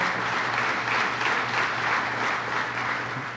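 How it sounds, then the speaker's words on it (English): A round of applause at a governor's announcement event, dense steady clapping from a crowd for a few seconds, loud and unbroken, fading slightly at the end. "let's give him a round of applause"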